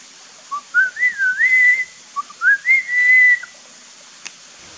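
A person whistles a rising, sliding melodic phrase imitating a Malabar whistling thrush, pauses briefly, then repeats a similar phrase ending in a long held note; clear and close, with a faint click near the end, in montane forest.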